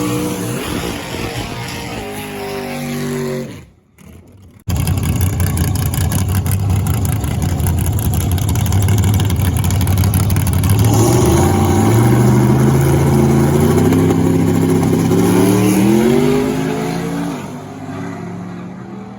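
A loud Camaro drag race car launches on a no-prep track, revs, cuts out briefly, then roars back and accelerates hard, pitch climbing through gears before easing off.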